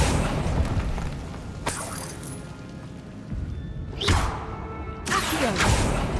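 Accio summoning spell cast repeatedly in the video game Hogwarts Legacy, with several sharp whooshing bursts and impacts spaced a second or two apart over a low rumbling game background.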